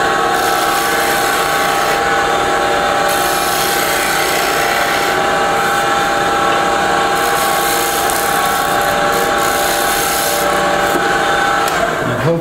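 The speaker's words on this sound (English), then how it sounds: "I am just going to put a little shear scrape on it" Lathe spinning a bocote wood pendant while a tool shear scrapes it, a loud continuous motor hum and whir with steady scraping hiss throughout, close and unbroken for the whole stretch.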